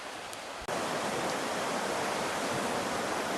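Steady broadband rain hiss pours down at a riverside campground at Bagley Rapids in the Chequamegon-Nicolet forest, loud and continuous with a brief dip near the start, no voices.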